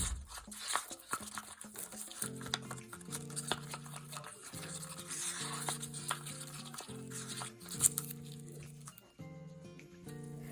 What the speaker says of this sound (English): So mix our resin.